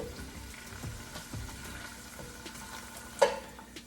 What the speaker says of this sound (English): I just wanna start cooking the anchovies